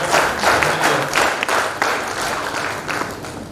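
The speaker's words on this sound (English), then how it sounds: "I want to give them a big round of applause." Audience applause at a silver jubilee alumni gathering, a dense, steady burst of many hands clapping close by for a few seconds.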